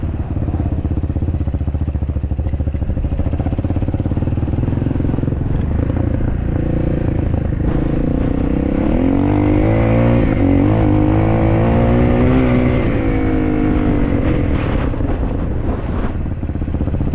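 Shineray VXR 300 motorcycle on a test ride, its engine droning steadily and close, climbing through revs around the middle and easing back, with wind rush throughout.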